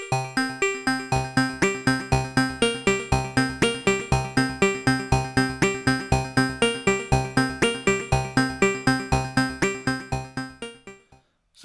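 VCV Rack modular synth sequence layering a CS80-style patch with sine-wave tones from Cornrows, playing a steady, evenly pulsed pattern of bright repeated notes over a bass line before stopping abruptly near the end.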